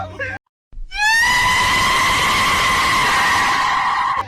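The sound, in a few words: modified car exhaust noise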